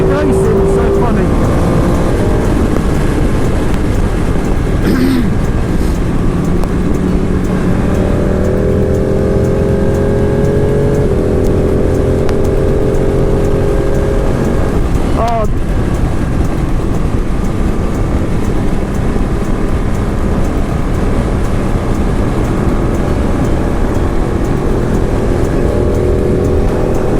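Motorcycles, including a 2017 KTM Super Duke, racing along a road in Spain, heard as a continuous loud engine and wind roar with rising and falling revs and brief passing surges, and faint talking mixed in.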